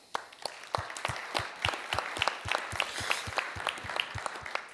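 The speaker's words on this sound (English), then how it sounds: "I think they're not here, but still an applause." Applause at the BE-AM Symposium 2025, a smaller audience clapping in sparse, distinct claps that build into an uneven patter, fairly faint and a little distant, with no speech over it.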